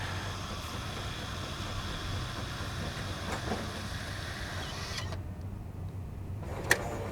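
A Jura X8 espresso machine pulling about two ounces of espresso into a small cappuccino cup, with a steady, close mechanical hum and whir that holds through most of the run, then briefly quiets near the end before a short click.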